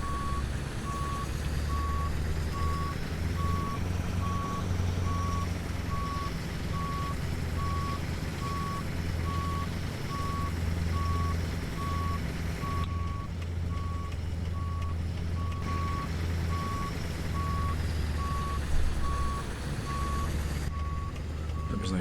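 A Mack Superliner truck in American Truck Simulator backing in off the tarmac, its reversing alarm beeping in a steady, evenly spaced rhythm over a constant low engine rumble.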